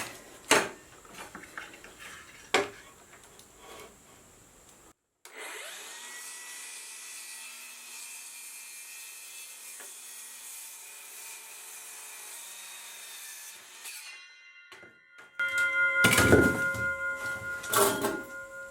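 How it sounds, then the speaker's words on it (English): A few sharp knocks, then a long whirring cut with a steady mechanical drone, ending in loud rasping strokes and clatter close by. "I've been using this saw a lot in place of my miter saw"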